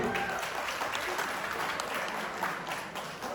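An indoor audience applauds the sponsors of an event with steady, dense clapping that holds at an even level throughout and fades slightly near the end.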